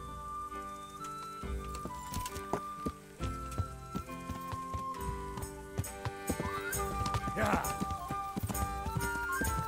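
A horse in the Kingdom Come: Deliverance video game clops along with a rhythmic hoof beat, a neigh rising partway through, all set within a busy musical game soundscape.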